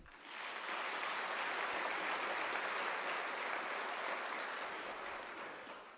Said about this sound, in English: Let us take a moment to applaud the graduates.